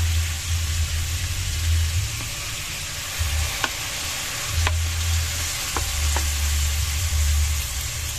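Chicken liver and gizzard adobo sizzles in a pan as soy sauce goes in. A constant close frying hiss carries a low bubbling rumble that comes and goes, with a few faint clicks.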